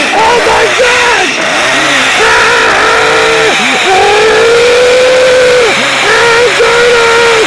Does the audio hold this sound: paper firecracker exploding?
no